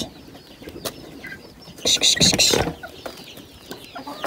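Chickens in a backyard coop cluck softly and intermittently, with a louder burst of flapping and squawking in the middle as the coop door is opened.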